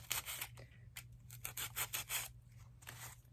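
Scissors snip through dollar store craft supplies in a quick run of close, crisp cuts with short pauses, set against a steady low hum.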